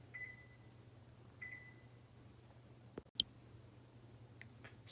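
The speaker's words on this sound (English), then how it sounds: "So first, before we start anything, we're gonna preheat the oven" A convection oven control being set to preheat at 325 degrees, with a few faint electronic beeps followed by a sharp click and a couple of soft ticks over a steady low hum.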